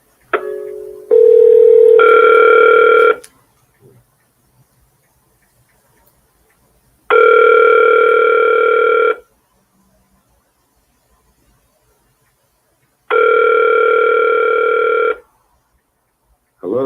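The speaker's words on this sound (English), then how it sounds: "So we're gonna get Shabaka on the phone, Black family." A phone line rings out in long, loud repeating bursts separated by silences, preceded by brief keypad dialing tones, placing a call from a broadcast setup over Bluetooth.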